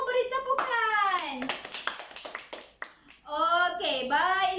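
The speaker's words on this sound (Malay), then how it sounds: "Semua beri tepukan." Pupils in a classroom clap in a quick, rhythmic burst, framed by children's raised chanting voices before and after.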